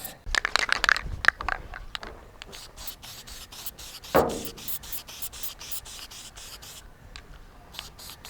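Filler putty being sanded by hand on the surface of an XH Falcon Surferroo model build, rough rubbing strokes in irregular bursts, close and fairly loud, with no talking.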